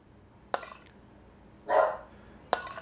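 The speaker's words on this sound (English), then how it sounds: "Dogs can smell food just like miles away, I think, because she can smell what's going on." A pet dog barks while waiting for dinner in a home kitchen: three separate barks, a sharp yap near the start, a longer fuller bark in the middle and a final sharp yap, close by against a quiet room.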